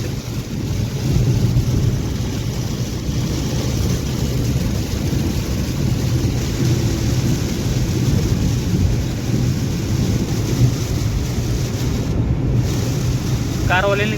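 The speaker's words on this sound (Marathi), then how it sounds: "एकदम जास्त पाऊस आहे." Heavy rain with thunder pours onto a highway on the Nagpur–Igatpuri stretch during a car journey, a loud, continuous roar of downpour and wind that lasts throughout.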